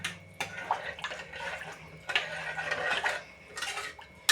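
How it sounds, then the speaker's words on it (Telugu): Sweet pongal is stirred with a spoon in a metal pot, giving loud, irregular clinks and scrapes in several bursts, close by and with no talking. "ఒకసారి కలుపుకుందాం"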